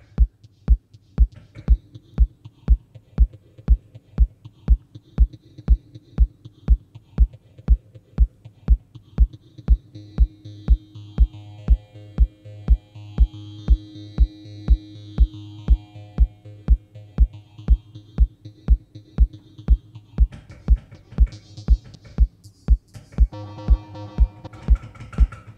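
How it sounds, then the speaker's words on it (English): A Roland TR-8S drum machine thumps a regular beat under sustained synth tones, with everything washed in a large, echoing church reverb. "I think it's a church reverb"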